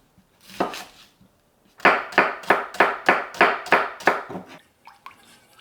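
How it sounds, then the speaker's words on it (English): A knife thinly slicing shallot on a cutting board: one short burst of cuts, a pause, then a quick, even run of about nine crisp, close chops that trails off into lighter taps. "And then just thinly slice this. Shallots, 1/4 cup."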